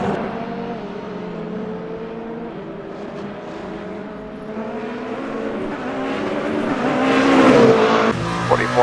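Race cars in the Le Mans Ultimate 24 Hours of Le Mans racing game, a loud engine drone whose pitch climbs under acceleration and swells toward the end, with brief tire squeal.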